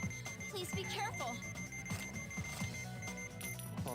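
An alarm from the surgery game Trauma Center: New Blood, a steady electronic beeping tone that runs under game music and voices throughout.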